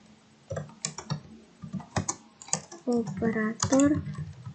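Code is typed on a computer keyboard in quick clusters of close key clicks, with a person speaking over part of the typing.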